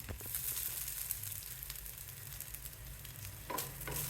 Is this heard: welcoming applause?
no